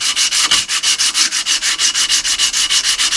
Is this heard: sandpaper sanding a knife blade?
yes